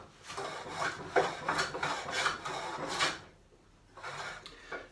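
A rebate plane, rusty from disuse, pushed along timber: a series of rasping wooden strokes, each a second or so long, close and fairly loud, with a short pause before a final stroke.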